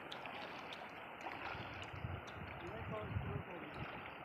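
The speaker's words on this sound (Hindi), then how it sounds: "पानी का बहाव बहुत ज़्यादा है।" Floodwater flows strongly across a road, a constant rushing wash with low rumble and wind buffeting the microphone, steady and unbroken from start to finish.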